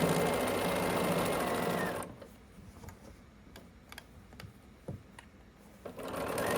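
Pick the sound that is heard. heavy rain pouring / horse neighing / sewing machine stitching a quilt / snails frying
sewing machine stitching a quilt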